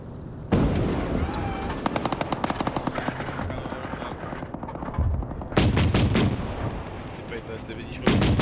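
A tank's NSV turret machine gun hammers out rapid, loud bursts in a large online multiplayer battle, mixed with other nearby gunfire, heavy booms and distant vehicle noise.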